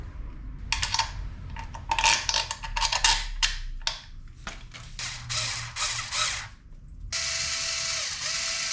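Bolts being hand-screwed into the brake pad caliper of a 2022 BMW S 1000 RR track bike, rapid close ratchet clicks in bursts, then a steady whir near the end.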